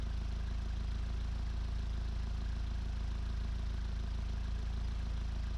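A steady, continuous truck engine idle in the video game BeamNG.drive, with a low, even rumble and no change in pitch or loudness throughout, sounding synthetic and uniform.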